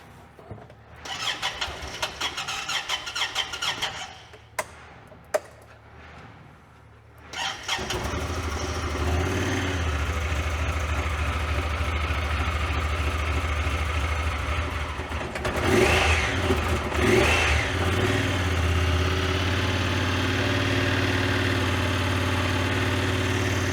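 A small side-by-side utility vehicle engine, bought as inoperable at auction, starts up and settles into a loud, steady run, with uneven surges and stumbles partway through from running rough; no one speaks.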